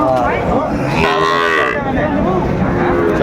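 Cattle lowing at a busy livestock market, several loud close moos rising and falling over crowd chatter and background voices.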